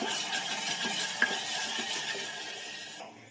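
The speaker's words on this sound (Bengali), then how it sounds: "সব কিছু ভালোভাবে মিক্স করে নেব, কষতে নিতে হবে" Ginger garlic paste and mutton keema are stirred in a pan, giving a short burst of close scraping and soft sizzling that fades out at the end, with no talk.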